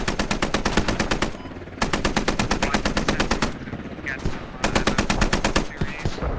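Machine gun fire in the military shooter game Squad during a 100-player battle, with long, loud, rapid automatic bursts separated by brief pauses and only faint background sound between them.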